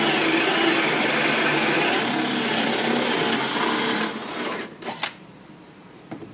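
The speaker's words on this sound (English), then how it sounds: "I'm going to bore through with a gentle rocking motion until I go through." A power drill whirs steadily and loudly while boring through wood into plywood, a broad grinding buzz that cuts off near the end, followed by a couple of light clicks.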